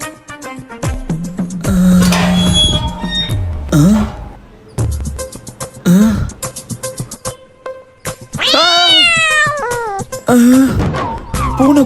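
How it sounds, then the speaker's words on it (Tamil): A cat crossing a path meows repeatedly, loud and close, with several drawn-out wailing, rising-falling cries separated by short pauses. "பூனை குறுக்கால போகுது"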